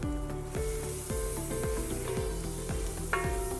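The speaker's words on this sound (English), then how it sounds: "You want to stir it around just like that." Vegetables with flour being stirred in a hot pan: a steady frying sizzle with a series of rhythmic spoon scrapes about every half second, close and clear, with no talking.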